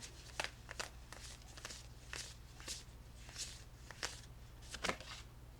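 Spirit animal oracle cards are shuffled by hand in a quiet room, making a series of soft, crisp riffling snaps at an irregular rhythm with faint background hum.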